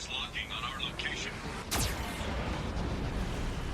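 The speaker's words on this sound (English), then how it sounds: "Warning, Geth cannon is locking on our location" A Geth cannon firing in the video game Mass Effect 2, a deep, rumbling blast with a sharp sweeping streak that rolls on and stays loud to the end, following brief game chatter.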